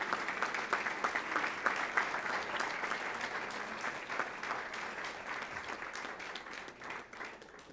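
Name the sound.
applause for mariachi students entering the room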